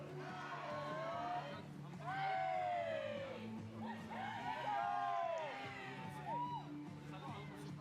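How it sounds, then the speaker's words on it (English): Hardy supporters at a rain-soaked outdoor youth archery bronze match in Limerick cheer for the India and USA teams, with scattered whoops and yells rising and falling over steady background noise. "there's some hardy supporters out there still cheering on their 2 teams"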